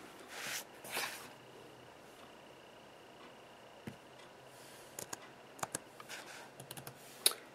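Quiet computer keyboard typing: a few scattered soft clicks and key taps, faint, with brief rustling noises near the start.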